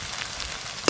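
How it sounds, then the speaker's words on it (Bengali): Garlic and chopped onion fry in a pan, making a steady close sizzle with a short louder stir or scrape at the end and no talking. "রসুন আর পেঁয়াজ কুচি খুব ভালো করে ভাজা ভাজা হয়ে গেছে"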